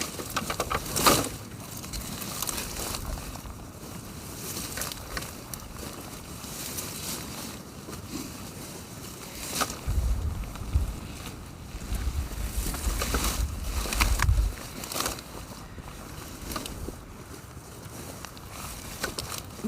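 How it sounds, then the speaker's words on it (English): Wind gusts outdoors as snow threatens, buffeting the microphone in uneven rushes and thumps with a rough, low roar rising and falling across the whole stretch. "Now the wind has picked up and it looks like it's trying to snow"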